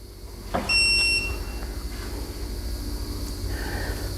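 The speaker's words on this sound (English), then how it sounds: "My first one is my, what do you want to call, beeper, because it goes lower than my clicker." A digital torque wrench gives one loud high electronic beep while crankshaft main bolts are tightened on a budget Chevy 305 engine, followed by fainter tool and shop noise.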